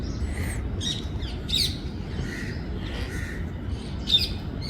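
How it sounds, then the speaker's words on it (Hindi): Parrots and other birds calling at Sabarmati Ashram, Gujarat, with repeated squawks and chirps scattered over a steady outdoor background hum. "पक्षियों की आवाज़ें, ये सब पैरट्स इतने आराम से घूम रहे थे यहाँ पर"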